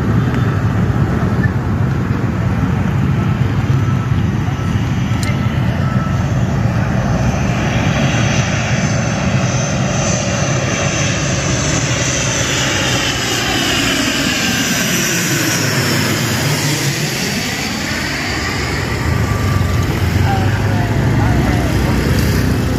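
A passenger airplane coming in to land at Sultan Hasanuddin airport in Maros roars loudly and steadily throughout, its engine noise swelling with a sweeping Doppler pitch shift as it passes overhead, with faint outdoor voices underneath.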